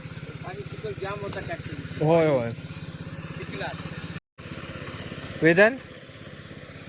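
A tractor engine idles with a steady low chugging in a field in a Konkan village, while people speak briefly nearby.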